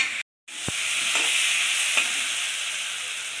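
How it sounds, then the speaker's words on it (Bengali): Spice paste of tomato, salt, turmeric and chili powder frying in a pan for a fish and potato curry, stirred along; a steady, loud sizzle with a brief break near the start and a few soft scrapes. "মশলাটা ভাজা হয়ে গেছে"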